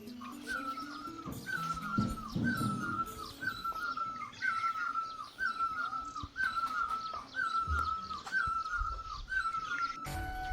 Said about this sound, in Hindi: सुबह सुबह ही पहाड़ों में चारों तरफ चिड़ियों की चहचहाने की आवाज़ें सुनाई देती है